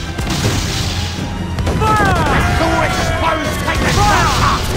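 Cannon fire from the Jackdaw pirate ship during a sea battle in Assassin's Creed Black Flag, with loud sustained blasts and crashing impacts plus bright whistling streaks, continuous and dense; a voice talks over it.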